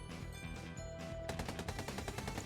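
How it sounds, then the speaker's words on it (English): Dense rapid gunfire in a video game, over a loud, busy backdrop, the shots growing sharper and more continuous halfway through, like automatic weapons firing. "Gunfire erupts from behind SCP-682."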